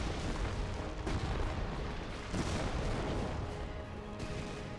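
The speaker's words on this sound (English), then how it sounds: "Oh, there's some butterfly bombs right there." Scattered butterfly bomb explosions and artillery fire rumble across a Company of Heroes battle, a dense continuous barrage of booms and bursts at moderate distance with no talk.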